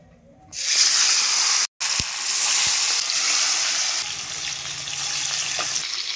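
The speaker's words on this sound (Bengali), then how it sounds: "এবারে এক এক করে মাছগুলো তেলের মধ্যে ছেড়ে দেবো।" Koi fish drop into hot oil in a wok and set off a sudden, loud sizzle that carries on steadily, broken only by one very short gap.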